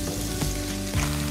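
Winged beans stir-fried over high heat sizzle steadily in a hot pan, a loud continuous crackling hiss with a couple of soft scraping stirs, close up and with no talk.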